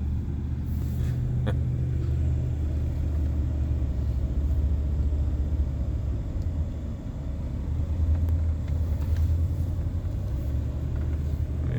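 A car drives steadily through a residential neighbourhood, its low engine and road rumble continuous and close throughout, with no talking.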